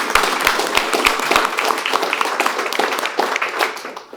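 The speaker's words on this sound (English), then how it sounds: "how about a round of applause for the finance team" A room of people at a city budget meeting applauds warmly, with several sharp individual claps up front before the clapping thins into a softer patter.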